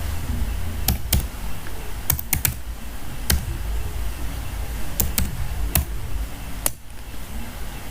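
Typing on a computer keyboard while setting up WordPress: sparse clusters of sharp key clicks, a few quick pairs and single taps, close and clear over a low steady hum.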